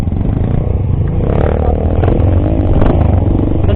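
A Yamaha X-Ride 125 motorcycle rides off-road in first gear, its engine loud and close with a steady rough drone and clattering, rattling over the terrain throughout.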